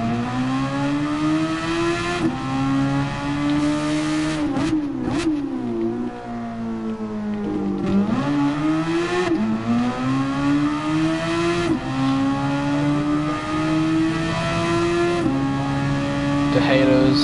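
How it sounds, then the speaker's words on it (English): An F1 race car engine in a video game revs loudly and continuously, its pitch rising and dipping through gear changes and corners, with brief squeals, close and sustained throughout. "now I'll get into my other, but slower F1 car"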